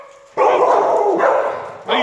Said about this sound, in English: What are you barking at, crazy?